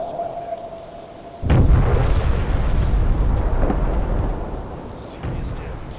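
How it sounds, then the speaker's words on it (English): A deep, rumbling explosion from an acoustic torpedo striking an enemy ship in the submarine game UBoat, booming in abruptly after a low tone and rolling on as a long, heavy roar that slowly fades. "Come on, hit. They're acoustic torpedoes. 10 seconds to impact."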